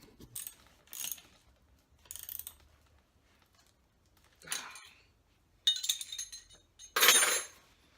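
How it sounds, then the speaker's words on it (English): Allen ratchet tightening a Belltech front drop strut, several short bursts of metallic clicking separated by pauses, fairly close, growing louder and denser toward the end. "You get your wrench, the Allen ratchet, and just start tightening it down."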